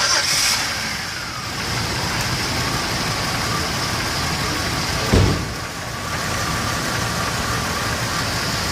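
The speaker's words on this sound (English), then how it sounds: "Now we're going to start the car." A car engine running at idle on fuel injector cleaner, a steady mid-pitched hum with a brief louder catch partway through, fairly close and with no talk over it.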